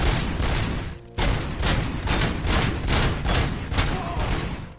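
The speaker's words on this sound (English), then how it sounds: "Heavy machine gun on the stairs." Heavy machine gun fire in the video game Robocop: Rogue City blasts in dense, continuous bursts with a brief gap, loud and close throughout.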